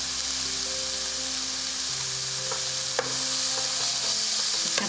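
Tomatoes cook down in a pan with a steady soft sizzle and bubbling, heard up close, with a single sharp clink partway through.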